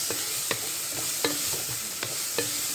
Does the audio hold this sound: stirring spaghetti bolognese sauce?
yes